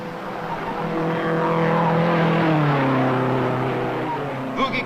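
Race cars roar past at the 1955 Indianapolis 500: loud engine tones rise and fall as the cars sweep by, steady and continuous, with a voice talking over the noise.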